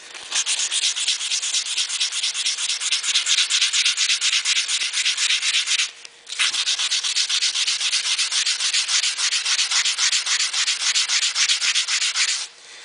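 Stainless steel being sanded with 240 grit abrasive, a loud steady rasping scrub in fast back-and-forth strokes, pausing briefly midway before continuing.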